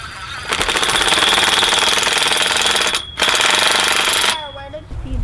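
Power drill running steadily for several seconds during a passive solar greenhouse build, loud and close, with a brief pause before drilling resumes and then stops.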